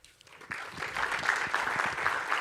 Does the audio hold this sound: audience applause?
yes